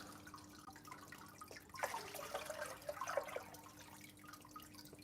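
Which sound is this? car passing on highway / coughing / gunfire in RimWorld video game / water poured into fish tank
water poured into fish tank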